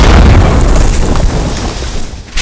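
A massive blast at an illegal LPG tank plant in Bulacan: a loud, broadband boom that rumbles and slowly fades over about two seconds, ending with a brief sharp crackle.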